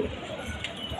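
Pigeons coo softly in low, rounded calls at moderate distance, mixed with light rustling and outdoor background noise over a brief stretch.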